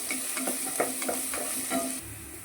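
Onion sizzling and frying in a pan while being stirred for vegetable Maggi, a steady crackling hiss with soft scraping stir strokes, close and continuous, with no talk.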